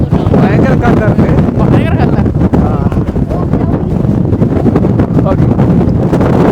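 Strong wind on a hilltop buffets the microphone in a loud, constant roar with gusting rumble throughout, and people talk beneath it.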